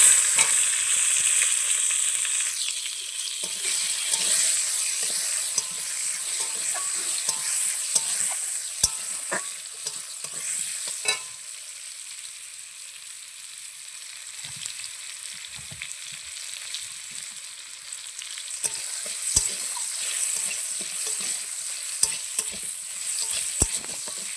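Tomato gravy with turmeric bubbles and fries steadily in a kadai, a constant bright hissing sizzle with occasional faint spatula taps, close and uninterrupted.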